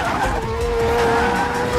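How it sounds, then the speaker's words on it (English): A Mazda RX-7 with a rotary engine drives hard and loud up close, its steady high engine drone mixed with tire squeal through the whole short stretch. "The Mazda RX-7, which substitutes a spinning geometry engine for your standard piston engine, will be the loudest part of the video for you guys."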